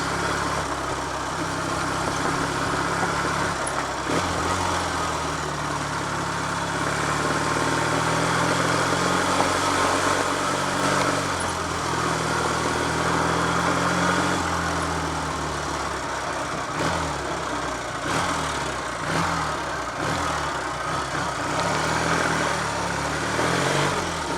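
A Triumph Trophy TR5 motorcycle, the 'Fonz' bike from Happy Days, ridden along a bumpy Roman road lane, its engine a steady, continuous drone with a low throb and rough road texture, with no talk throughout.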